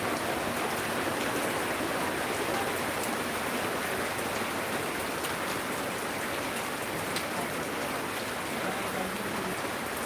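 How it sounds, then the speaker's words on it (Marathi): Rain begins falling over a soybean farm field, a dense, steady hiss of drops pattering on surfaces that stays continuous and loud from start to finish. "एकदम राईट टायमावर पावसाला सुरुवात झाली"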